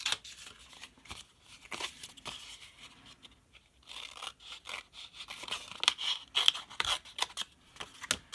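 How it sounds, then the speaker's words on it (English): Scissors clipping paper corners while making a mini suitcase pop-up book, close, quiet snips and crisp paper rustles in irregular bursts, becoming busier toward the end. "I clip my corners."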